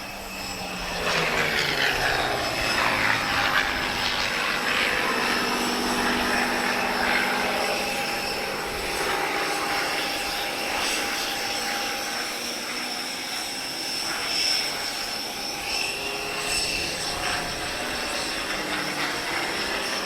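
A Supermarine Spitfire's engine roars at an airshow at the Portugal Air Summit 2022, a loud, steady drone that rises and falls as the warbird passes, filling the full twenty seconds with no talk.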